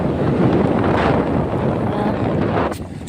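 Steady heavy rain and wind roar buffet a moving motorbike in a downpour, a dense continuous wash of noise with a brief sharper burst near the end, no clear voices.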